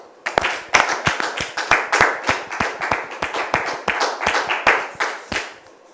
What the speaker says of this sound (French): Merci de recevoir notre visiteur sous vos applaudissements